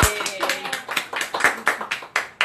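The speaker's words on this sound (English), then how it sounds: "Round of applause for Alex." A small group clapping for Alex, a few pairs of hands close by giving sharp, uneven, fairly quick claps for a couple of seconds, with voices chiming in over the clapping.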